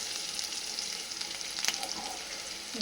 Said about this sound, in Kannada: ಇದಕ್ಕೆ ಒಗ್ಗರಣೆ ಹಾಕೊಂಡು ಬಂದೆ ಗೈಸ್